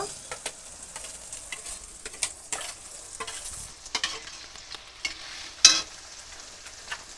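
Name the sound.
ginger, cumin, onion, garlic, chili paste frying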